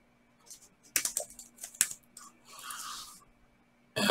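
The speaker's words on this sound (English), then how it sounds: "So I'm going to type Tomcat." Typing on a computer keyboard: a few quick clusters of key clicks with short pauses between them, close and fairly quiet, with no talking.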